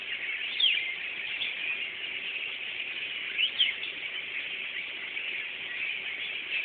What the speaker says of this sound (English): I don't know if it's catching them chirping. It's really loud in the house too.